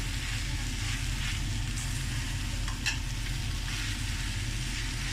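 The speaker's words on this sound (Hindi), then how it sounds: "ये जो हमने अपने आलू फ्राई किए हैं वो भी डाल देंगे और इनको मिक्स करें" Fried potatoes being stirred into karela gosht in a pan, a loud continuous sizzle with a low hum beneath and a few soft scraping strokes of the spoon.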